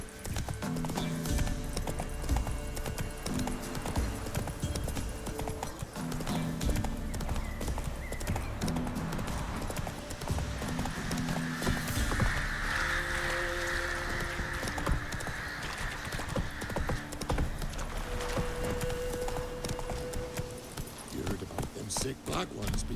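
Horse hooves clip-clop steadily on a path in The Witcher 3, a continuous close rhythmic trot with a brief whinny, under game dialogue and ambient background sound.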